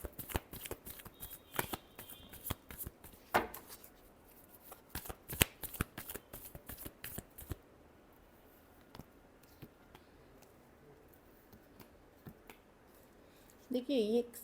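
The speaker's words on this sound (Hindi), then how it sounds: "last shuffle" Tarot cards being shuffled by hand in quick bursts of crisp riffling and slapping, close and fairly quiet, fading into a pause before a brief voice speaks near the end.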